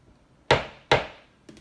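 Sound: tapping soap mold down on a surface

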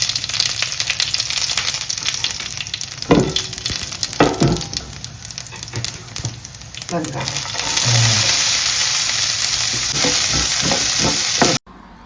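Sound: onions sautéing in a pan for crab curry

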